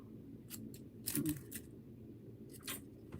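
Scissors snip through a preserved flower stem during a dried-flower arrangement, making a few quiet, crisp clicks spaced apart against a faint room background.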